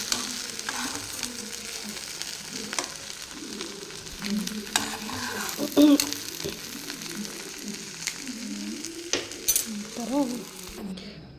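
Sheep brain fries in a pan over a low gas flame, a steady crackling sizzle with stirring scrapes throughout, while a voice speaks briefly over it.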